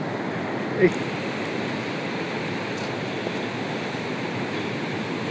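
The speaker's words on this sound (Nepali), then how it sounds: "अब हामीले यो आज घुम्ने क्रममा चाहिँ यहाँ झरना देखाएको छ" A waterfall in Dolpa gives off a steady, unbroken rushing roar that stays even throughout, with one faint brief knock near the start.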